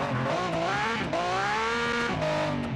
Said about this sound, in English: this car is quite loud